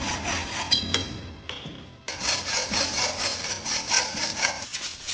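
Metal sawing cuts off the mounting lug from a chopper motorcycle's front shock absorber in a workshop, a steady rasping stroke rhythm that pauses briefly near two seconds, then resumes dense and close.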